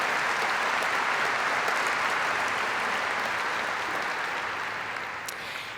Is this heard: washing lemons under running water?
no